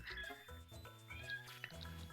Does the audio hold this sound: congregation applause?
no